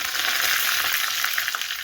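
Mustard seeds and curry leaves fry in hot oil for a Kannada-style sambar, giving a steady, close, even sizzle with a dense crackling hiss and no voices.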